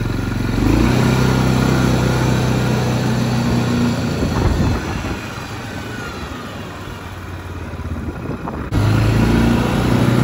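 A Linhai 550 ATV engine pulls hard in low gear with a loud, continuous drone that dips briefly midway and then surges again, close to the rider, with no talking.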